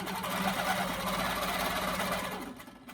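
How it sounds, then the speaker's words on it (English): A longarm quilting machine set to precision stitches free-motion swirls on a wall hanging, giving a close, steady whirring motor hum that eases slightly at the end. "I'm going to go ahead and start quilting some swirls"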